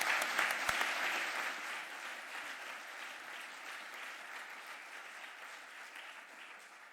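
An audience claps and cheers for a jamboree at a community meeting, a full burst of applause that slowly thins and fades across the stretch with no speech over it.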